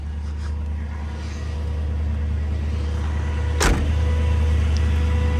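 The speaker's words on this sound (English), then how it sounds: "460 V8, 4-barrel carburetor." A 1976 Lincoln Continental Town Car's 460 V8 with 4-barrel carburetor and dual exhaust idles steadily with a deep, even rumble, broken by one brief sharp click or clunk partway through.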